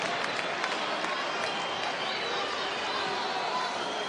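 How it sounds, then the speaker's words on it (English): Loud, dense crowd of fans at a women's basketball game between Spain and Serbia in the third quarter, a steady roar of cheering and clapping that fills the whole span without pause. "And it is a loud crowd."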